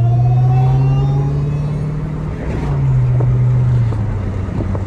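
Dodge Hellcat Redeye with a supercharged engine, driven alongside a widebody Scat Pack, gives a steady loud low drone with a faint rising whine, then eases off and picks up again, heard from inside the car with no talk.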